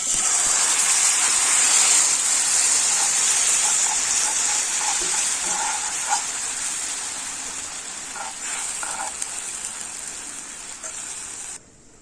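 A capsicum and chili powder mix poured into a hot pan while making Kozhikode beach-style stuffed squid sets off a loud, steady hissing sizzle that runs throughout and cuts off abruptly at the end.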